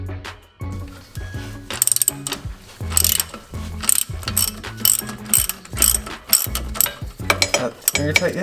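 A ratchet wrench works a front shock bolt loose on a 2019 Jeep, giving a steady series of loud, close metallic clicking strokes in a repeating back-and-forth rhythm, with no talk.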